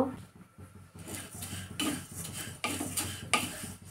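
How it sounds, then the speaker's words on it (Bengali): A spoon stirs and scrapes mung dal as it fries in a pan, giving quiet, intermittent clinks and rasps against the metal. Only a faint hint of sizzling comes through underneath. "তো আমি এটা ভালো করে ভেজে নিচ্ছি"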